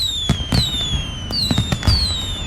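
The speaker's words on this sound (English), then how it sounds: "Check out Rozzy's large assortment of backyard fireworks, perfect for your Labor Day weekend celebrations." A backyard fireworks sound effect in a radio advert: several whistling rockets rise in pitch and end in sharp crackling pops and bangs, coming in quick overlapping bursts with no talk over them.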